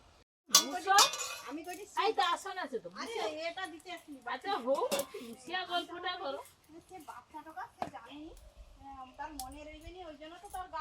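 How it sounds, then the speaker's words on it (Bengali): Cut mixed vegetables get washed in a pot, with clinks and knocks of metal and glass and splashing water, while someone talks almost constantly over the work. "আমার ওই বিভিন্ন ধরনের সবজি কাটা হয়ে গেছে এবার আমি ধুয়ে নেবো"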